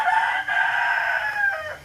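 A rooster crows once at close range, a long bright call that rises and trails off, on a farm raising free-range kampung chickens for eggs and meat alongside jumbo muscovy ducks.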